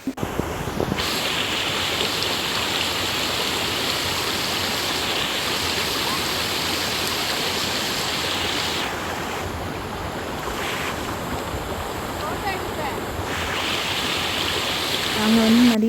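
Waterfall and stream at Uvas Canyon, a loud, constant roar of rushing water close by that dominates throughout, with faint voices underneath.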